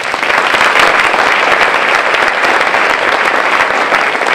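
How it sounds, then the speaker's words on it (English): Sustained applause from an audience at a school district State of the District event, steady and dense throughout, many hands clapping at once with no talk over it. "Let's give them a round of applause."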